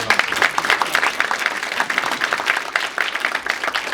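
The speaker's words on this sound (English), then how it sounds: "So let's give them a round of applause as well." An audience at a school anniversary celebration applauds steadily, a dense wash of many hands clapping close and fairly loud throughout, with no talk over it.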